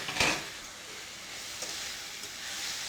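Diced Roma tomatoes and onions cook in a pan with a faint, steady sizzle, opening with a brief louder clink or stir and a few soft scrapes afterward.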